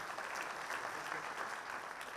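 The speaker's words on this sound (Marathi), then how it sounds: "एकदा जोरदार टाळ्या त्यांच्यासाठी" Audience applause at a public speech event, a continuous faint wash of clapping from many hands heard from a distance, with no talk over it.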